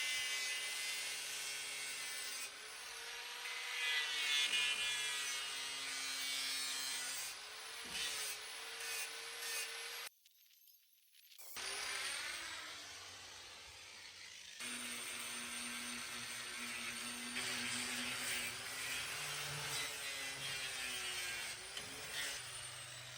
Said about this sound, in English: Sanded with 40 grit.